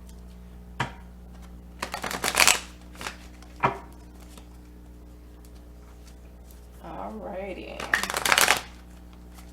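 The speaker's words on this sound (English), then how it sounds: "This deck is one of my hardest decks to shuffle" Bursts of a tarot card deck being shuffled, short riffling flurries separated by pauses, with a brief spoken word between them.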